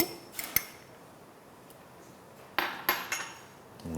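Ingredients are pounded for a southern Thai yellow curry with king mackerel, giving a few sharp, close knocks spaced apart over low kitchen background, with no talk.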